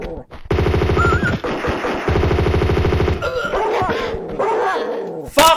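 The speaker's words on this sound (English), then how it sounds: "I didn't know there was a dog there" A dog in the video game Tomb Raider 2 lets out a loud, rapid run of harsh, tonal barks that fill most of the clip, briefly dropping off before resuming.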